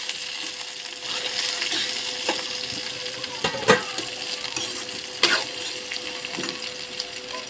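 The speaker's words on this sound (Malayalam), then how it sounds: "കൊടുത്തിട്ട് നമുക്ക് നല്ലതായിട്ടൊന്ന് ഇളക്കണം." A chopped mixture for okra masala curry being stirred in a pan, faint sizzling under scattered clinks and scrapes of a ladle against metal, close and moderate in level.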